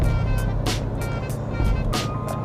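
An Isuzu with a Rev Tronic automatic gearbox and paddle shifters running steadily, with a constant engine drone and faint periodic bursts through the shifts, heard from inside the cabin with no talking.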